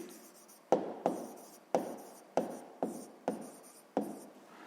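Handwriting with a pen on paper during a sixth-grade maths exercise: seven quick, distinct strokes, each a sharp scratch fading into a short rub, close and quiet, with no talking.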